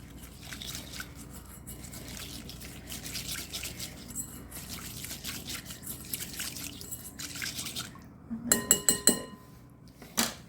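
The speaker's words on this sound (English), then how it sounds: "Now I'm going to add in my pasta and get that stirred up." A utensil stirs pasta salad in a bowl, giving soft wet scraping and faint clinks, followed by a louder burst of sharp clinks and taps near the end.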